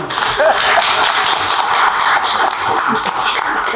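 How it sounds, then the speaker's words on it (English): Applause from councillors at the close of a full council meeting, a steady dense patter of hands clapping that fills the whole stretch without a break. "Clap here for yourselves."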